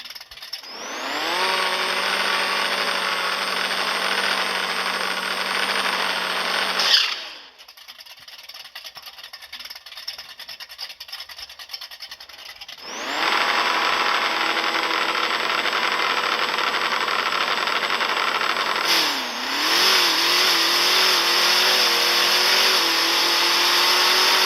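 A Dodge Ram truck with a 5.7 engine roars at high, steady revs for several seconds, drops to a pause, then revs hard again with a brief dip and surge, loud and close.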